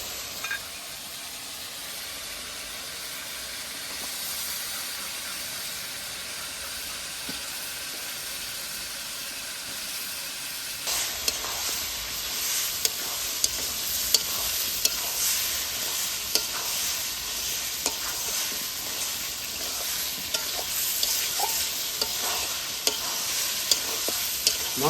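Mutton pieces sizzle and fry in spice masala while being stirred, a steady close hiss that grows louder and busier partway through with sharp scraping clicks of the spoon.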